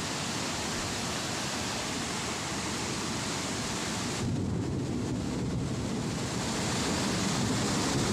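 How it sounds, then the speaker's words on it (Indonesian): The Dinoyo river in Jember, overflowing its banks in a flood, gives a constant, dense roar of rushing water that grows heavier and fuller partway through, with no voices. "Aliran sungai Dinoyo meluap hingga ke permukaan hingga menerjang beberapa jembatan"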